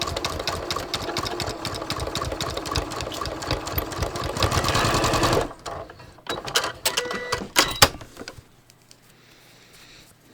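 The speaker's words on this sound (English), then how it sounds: "And I'm just going to sew 1/2 inch." A sewing machine runs steadily for several seconds, sewing a half-inch seam on a shaped pants hem facing, then slows into short stop-start bursts before falling quiet; close and clear with no talking.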